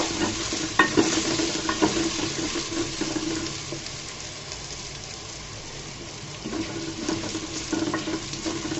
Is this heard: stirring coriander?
yes